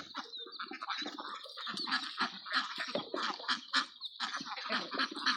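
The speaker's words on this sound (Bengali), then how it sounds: "এই দেন নদীর মধ্যে কত হাঁস" A flock of farmed ducks on a river quacking busily and continuously, many overlapping nasal calls close by with no one talking.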